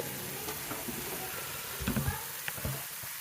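Food frying in an Instant Vortex VersaZone air fryer, a quiet steady sizzle with a few soft clicks and knocks of a basket or utensil, fairly faint, no talking over it.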